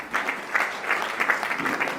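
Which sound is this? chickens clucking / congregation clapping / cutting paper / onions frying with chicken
congregation clapping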